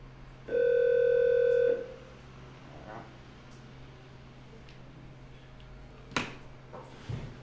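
An old, discarded landline telephone gives a steady, loud dial tone that lasts a little over a second and then cuts off, followed by quiet room noise and a couple of faint clicks.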